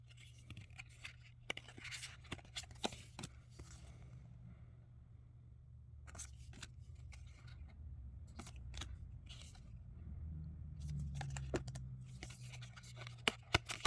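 Thick tarot cards are flipped and riffled in quick, crisp bursts of papery flicks and scrapes. The handling sounds close and fairly quiet, with short pauses between runs of cards over a low background hum.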